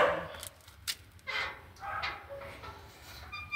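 A stray street dog outdoors gives a few short, faint yips and whimpers spread over a few seconds, with quiet background noise and no speech.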